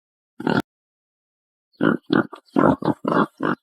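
Close, loud piglet grunts: one short grunt, a pause of silence, then a rapid string of about seven snuffling grunts.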